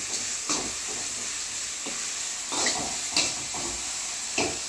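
Goat intestine curry sautés in a pan with a steady, moderate sizzle. A spoon scrapes and stirs it every second or so, close by.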